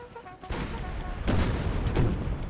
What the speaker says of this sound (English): And our artillery is just like doing their best